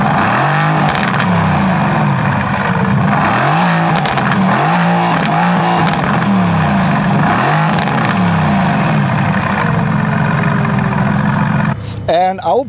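A 2015 Mercedes-AMG GT S V8 fires up and revs loudly nearby, with repeated throttle blips rising and falling over a deep idle before the sound cuts off abruptly near the end.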